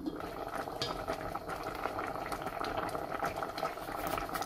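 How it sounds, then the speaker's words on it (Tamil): Rice for Sri Lankan milk rice simmering in a covered pot on medium heat, giving a steady, close bubbling hiss with soft lid rattles and small clinks throughout. "மீடியம் ஹீட்ல வச்சு கொஞ்ச நேரத்துக்கு மூடி விட்டு அவிய விடுவோம்."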